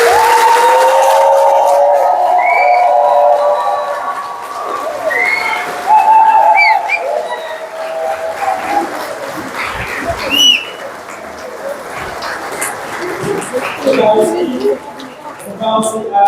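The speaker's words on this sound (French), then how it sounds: "je vous invite à applaudir nos jeunes." An audience at a multi-ethnic first communion ceremony in France applauds the young communicants, a crowd clapping loudly under a speaker's amplified voice, with the clapping thinning into scattered claps and murmurs as the talk continues.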